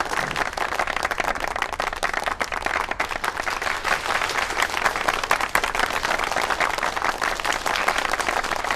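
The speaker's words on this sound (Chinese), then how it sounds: "让我们用热烈的掌声，有请二位新人隆重登场" Warm, sustained applause from a crowd of guests welcoming a couple at an engagement banquet, dense steady clapping filling the whole stretch without talk.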